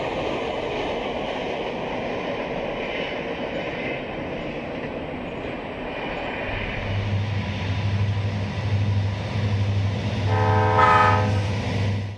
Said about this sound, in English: An SD40-2 leads this westbound through Pinole.